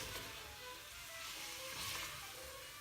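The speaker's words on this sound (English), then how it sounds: "let it a little bit fry with your onion. Give it a bit of a stir" Onion with turmeric fries gently in a pan while being stirred, a faint steady sizzle with light scraping, quiet and without speech.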